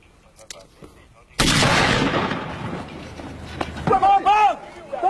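A single loud gunshot from a rebel sniper in Freetown cracks out sharply and rings into a long, fading echo, with voices rising briefly afterward.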